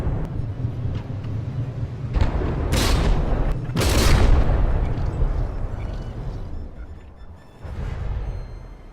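Warship cannon fire and shell hits in the naval combat game From The Depths, a frigate battle with heavy booming blasts and rumbling impacts that swell and fade, loud and close, with no talking.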